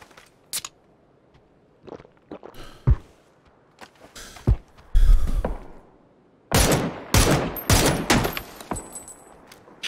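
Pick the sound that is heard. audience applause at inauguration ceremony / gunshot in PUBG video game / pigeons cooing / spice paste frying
gunshot in PUBG video game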